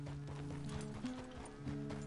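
Horse hooves clip-clop in a quick rhythm in Red Dead Redemption 2, with a faint whinny, all fairly quiet under a soft game soundtrack.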